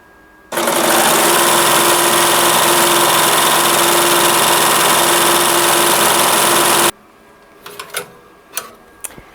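An embroidery machine stitches a design on a big-eared plush elephant with a loud, steady mechanical whir for about six seconds, then stops, followed by a few light clicks and taps.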